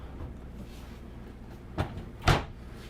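Two quick knocks sound close by against quiet room tone, like a pull-out drawer in a 2020 Newmar Superstar 4051 motorhome sliding out and bumping to a stop.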